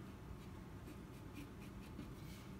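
A pencil marks a line on a fabric shirt sleeve for a crafting project, a faint, close scratching and rubbing with short soft strokes over a quiet room background, no voices.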